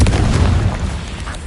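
In Hogwarts Legacy a Confringo blasting curse bursts into one loud, deep, rumbling explosion that fades out over a second and a half.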